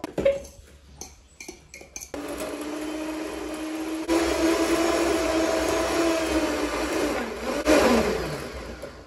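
An electric mixer beating cookie dough starts after a few clinks, a loud steady motor whine that shifts pitch as it works through the dough, close by.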